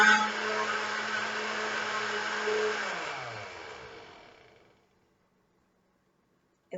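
A blender whirs steadily while mixing eggnog, then winds down and stops, leaving silence before a short sound at the end.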